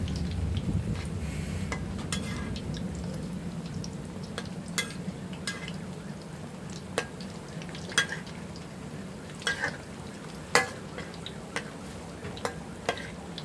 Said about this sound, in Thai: ทอดให้เขาเหลืองสุกดีนะคะ ทอดไฟกลางนะคะ